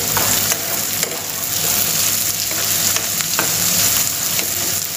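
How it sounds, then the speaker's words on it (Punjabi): Spices for a matar paneer tempering sizzle and fry steadily in a pan, loud and close, with occasional scraping stir sounds. "ਤੇ ਤੜਕਾ ਅਸੀਂ ਚੰਗੀ ਤਰ੍ਹਾਂ ਭੁੰਨਾਂਗੇ।"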